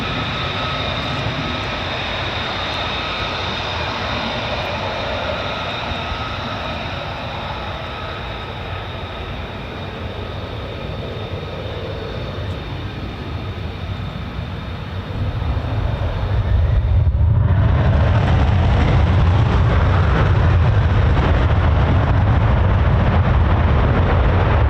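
An F-35A fighter jet passes low overhead at RAF Lakenheath, a steady broad roar that swells sharply and grows much louder in the final third, ending as a loud, close, sustained blast.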